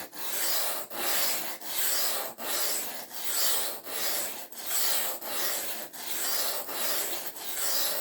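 Harsh, gritty scraping strokes repeat steadily, about one and a half per second, as a new Aurillac knife blade is drawn back and forth across coarse sharpening stones, close and alone.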